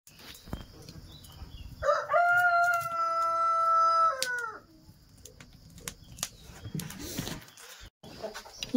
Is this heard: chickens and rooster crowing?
yes